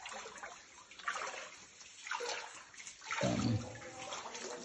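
Cold water flowing inside a dark, deep cave in the Cherrapunji hills, heard as a rushing, echoing stream that swells and fades in waves, with no one speaking.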